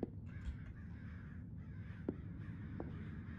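A crow caws repeatedly in the horror video game Summer of '58, harsh calls fairly loud over a low rumbling ambient background, with no talking.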